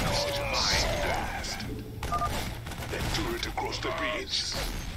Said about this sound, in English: I can use a psionic explosion to take out groups of marines